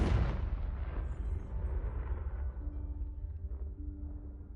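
A fiery Confringo spell blast erupts in the video game Hogwarts Legacy: one heavy boom up front that rolls off into a long, fading rumble, no speech over it.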